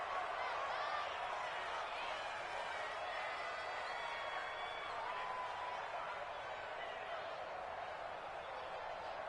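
A stadium crowd in an American football video game set at Foxborough roars steadily as a constant, dense wash of cheering and applause, sustained at even loudness throughout.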